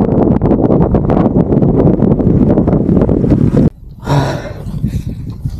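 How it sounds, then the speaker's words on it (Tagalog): Loud, blustery wind buffets the microphone in continuous rough gusts, then briefly drops away before a fainter rush of air returns. "Malakas na yung hangin mga kabayan"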